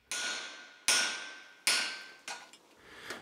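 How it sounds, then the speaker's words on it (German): A hammer strikes steel on an anvil while an axe is forged, three sharp ringing blows evenly spaced and then a lighter fourth, each tone fading before the next hit. "Mit Hammer und Amboss schmiedet er eine Axt."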